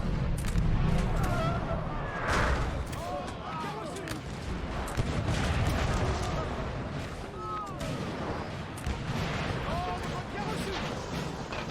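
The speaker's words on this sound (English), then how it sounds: "There's a artillery duel going on here, guys." Artillery duel in Napoleon Total War, a Napoleonic-era battle game: repeated cannon booms and distant gunfire rumble steadily throughout, mixed with battle noise and a voice talking over it.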